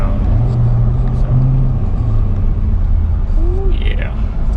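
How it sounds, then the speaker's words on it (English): A 2019 Corvette C7 Grand Sport V8 rumbles loudly and steadily nearby, its Borla X-pipe exhaust with secondary cat delete and open active valve giving a deep throaty tone with slight swells rather than sharp revs. "it has the active valve, which he always keeps open"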